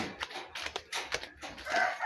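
A heritage-breed chicken clucks and squawks in short, uneven bursts, close by and fairly quiet.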